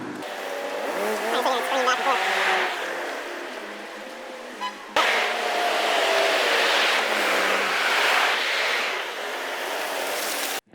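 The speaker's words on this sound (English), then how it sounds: "I can't hear you with the traffic, my man." Steady road traffic rushes past close by, a continuous broadband roar of passing cars with a sharp jolt midway, while people talk over it.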